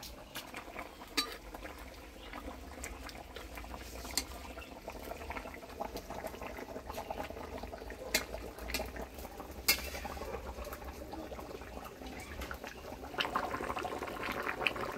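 Tilapia fish curry with new potatoes bubbling steadily in a pot, a continuous soft simmer with occasional sharper pops and clinks, fairly close and moderate in level, with no talking.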